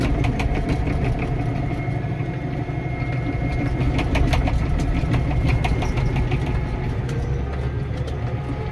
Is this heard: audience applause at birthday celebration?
no